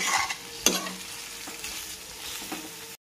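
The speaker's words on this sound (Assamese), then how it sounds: "গাহৰি মাংসখিনিও ভালকে ভাজি ল'ম" Pork stir-fried in a pan, with a steady close sizzle under repeated scraping stirs and a sharp metallic clank near the start.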